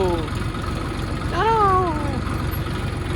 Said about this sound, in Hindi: ट्रैक्टर की आवाज़ आवेली